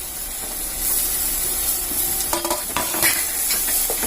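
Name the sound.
chopped tomato added to frying masala, sizzling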